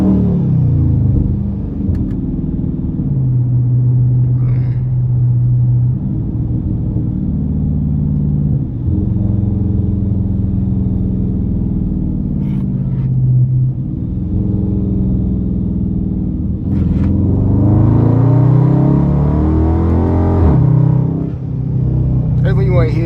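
A car's engine rumbles and revs through paddle-shift gear changes on a road drive, the pitch rising and falling in repeated pulls and drops, loud and steady from inside the cabin for over twenty seconds.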